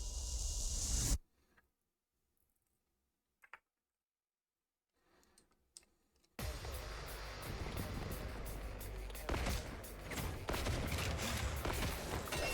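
Rapid bursts of gunfire from a bike in The Hundred Line video game, loud and dense after a quiet stretch, with the crackle continuing steadily through the second half.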